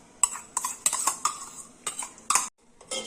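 Gobindobhog rice tipped into milk in a cooking pot, heard as a run of sharp, close clinks and scrapes of utensil against metal in uneven bursts over about three seconds, with no talking.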